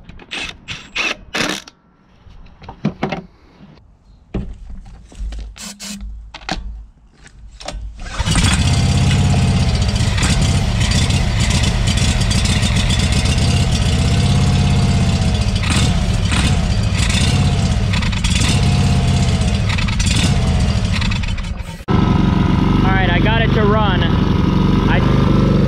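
A SCAG 52-inch hydro riding mower engine, primed with starting fluid, cranks and sputters in uneven bursts before catching and running at a loud, steady close-up idle, with a brief change in pitch near the end.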